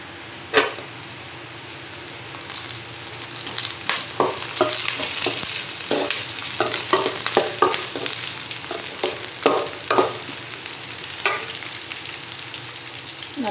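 Green chillies sautéing in hot oil, a steady sizzle broken by frequent scraping clatters of a spoon stirring the pan, close and alone.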